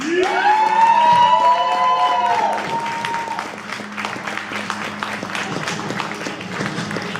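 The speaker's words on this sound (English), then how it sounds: "Clap it up for him." Comedy club audience in Sacramento clapping and cheering for a stand-up comic, a loud dense wave of applause with whoops that swells at the start, then settles into steadier clapping as a voice briefly talks over it.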